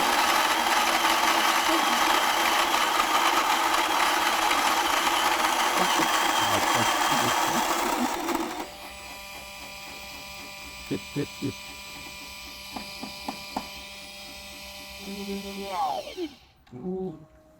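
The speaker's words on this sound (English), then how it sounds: "Adjusting the grind size, sending the beans through" An xBloom pour-over coffee brewer grinds beans with a loud, steady whirring drone for about eight seconds, then settles into a quieter mechanical hum broken by light clicks and ticks.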